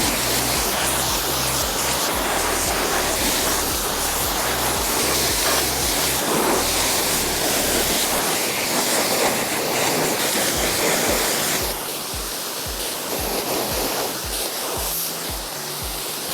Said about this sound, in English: We're gonna rinse this from the bottom up because we're not physically touching it this time.